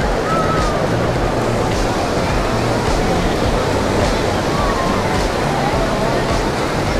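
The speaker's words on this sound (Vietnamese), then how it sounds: "sóng gió hơi là lớn, tại vì ảnh hưởng áp thấp nhiệt đới mấy ngày nay cả nhà" Rough sea waves, stirred up by a tropical depression, roar onto the beach at Vung Tau in a loud, continuous wash with wind buffeting the microphone, while a person talks over it.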